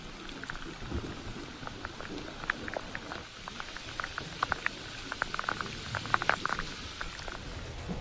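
Floodwater runs fast along a submerged street during heavy monsoon rain, a steady dense rushing and spattering wash with scattered bright splashes throughout, moderately loud and continuous.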